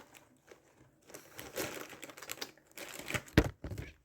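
Packaging is unwrapped by hand, with crinkly plastic rustles and tearing in short irregular bursts. The sound is close and fairly quiet, with no talk over it.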